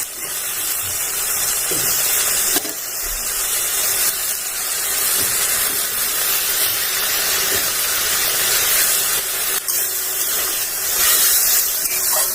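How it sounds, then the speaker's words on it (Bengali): Masala with turmeric, tomato and coriander leaves fries in a pan, giving a loud, steady, unbroken sizzle and hiss from start to finish, with no one talking. "এবার কিছুক্ষণ মশলাটা ভালো করে ভেজে নিতে হবে"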